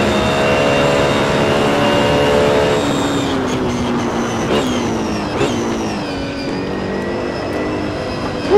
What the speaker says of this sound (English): He just zipped past me because I went off.